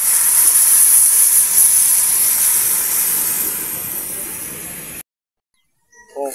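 Fried crabs cook in Sprite, making a loud, close, steady hiss of bubbling and steam that slowly fades and then cuts off, followed by a short moment of quiet and a faint voice.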